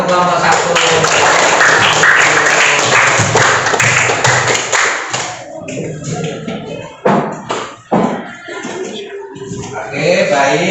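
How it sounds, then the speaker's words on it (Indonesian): Classroom of students clapping for a presenting student group, a loud burst of dense applause that fades after about five seconds into scattered claps, taps and shuffling, with voices mixed in. "Tepuk tangan untuk kelompok 1."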